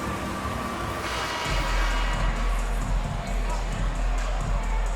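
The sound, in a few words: crowd applause in a basketball video game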